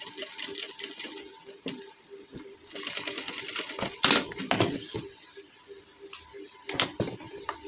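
A sewing machine stitches fabric for a gents suit, rapid mechanical clatter in bursts broken by short pauses and a few sharp knocks, close and clear.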